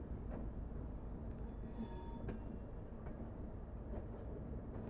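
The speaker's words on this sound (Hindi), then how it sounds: "बहुत धीरे धीरे ट्रेन को लेकर जा रहे हैं।" The Poorabiya Express passenger train rolls slowly under a low, steady rumble of wheels and carriage, with faint squeals and light metallic clicks heard from inside, quiet and continuous with no talk.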